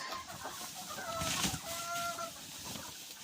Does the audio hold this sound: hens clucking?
yes